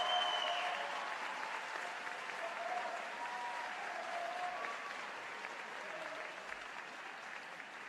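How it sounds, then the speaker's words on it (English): Steady applause from an audience honoring the New York governor at a free state college tuition event, a dense, even wash of clapping that holds at moderate level for the whole stretch with no talk over it. "let us thank, and a round of applause first for our governor, Andrew Cuomo."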